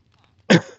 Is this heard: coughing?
yes